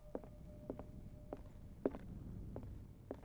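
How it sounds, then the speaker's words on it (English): Quiet, sparse footsteps tread at an uneven pace in the Call of Cthulhu video game, several soft separate steps over a faint low ambient hum. "Heard like footsteps."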